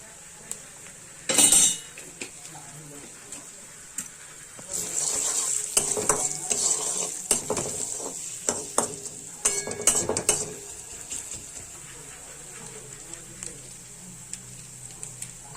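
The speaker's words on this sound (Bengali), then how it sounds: "আদা রসুন লঙ্কাটা ভাজা ভাজা হয়ে এসেছে" Ginger, garlic and chili sizzle and crackle in a hot pan while a utensil stirs and scrapes, with a few metallic clinks along the way.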